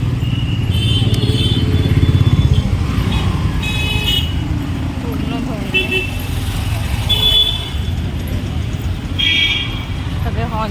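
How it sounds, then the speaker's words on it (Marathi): Busy road outside a school carries a steady roar of passing cars and motorcycles, with repeated horn toots cutting through at intervals and voices faintly in the mix. "गाड्यांचाच आवाज येतील तुम्हाला आणि इथे पार्किंगला लागणाऱ्या गाड्या पण असतात"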